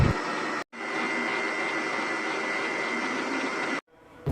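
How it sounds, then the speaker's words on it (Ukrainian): An electric mixer whips egg whites to stiff peaks for a custard cake, a loud, close, steady whirring roar that runs for several seconds, cut off briefly at the start and again near the end. "Білки збиваємо до стійких піків."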